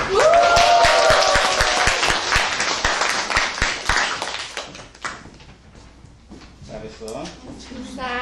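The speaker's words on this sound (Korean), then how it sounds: "박수!" A classroom of students claps for the school's top-ranked pupil, a dense burst of applause that is loudest at the start and then thins into scattered claps, with voices murmuring near the end.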